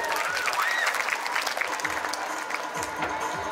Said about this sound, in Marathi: टाळ्या वाजवा जोरात या पोरीसाठी.